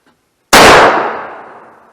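A single blast from a Stevens single shot 16 gauge shotgun at an outdoor range: one sharp, very loud report after a brief silence, followed by a long decaying ring and echo.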